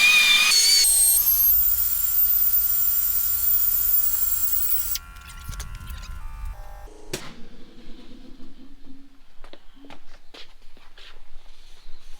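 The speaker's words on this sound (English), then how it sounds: "we're ball honing the bores just to make sure there's not any burrs or anything in there." A ball hone scours the cylinder bores of a 5.9 Cummins engine block, a loud whirring scrub for about five seconds that then drops to quieter scraping, knocks and handling noises.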